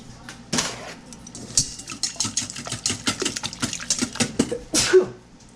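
Eggs being whisked with salt and pepper in a bowl, a quick run of light clinking and tapping strokes, close and fairly faint, with a small ringing knock near the end.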